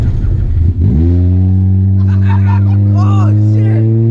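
A Honda Civic engine with rod knock revs hard when the clutch is dumped, jumping to a loud, sustained, droning roar that holds steady, while voices talk and shout over it.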